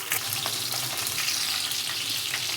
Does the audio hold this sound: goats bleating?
no